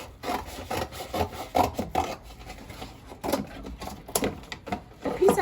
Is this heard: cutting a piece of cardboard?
yes